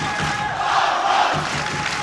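A boxing arena crowd roars in a sustained, distant wash of cheering and shouting that swells briefly mid-way and then holds steady.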